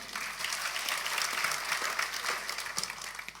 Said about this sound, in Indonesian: Tepuk tangan saudaraku.